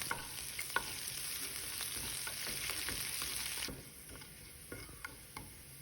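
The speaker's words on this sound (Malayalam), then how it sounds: "എണ്ണ ചൂടായാൽ കുറച്ച് കടുകും കുറച്ച് ഉലുവയും ഇട്ട് പൊട്ടിക്കാം" Mustard seeds and fenugreek spluttering in hot oil along with ginger, garlic and green chilli for an instant mango pickle, a steady close sizzle with sharp pops and stirring clicks, easing quieter partway through.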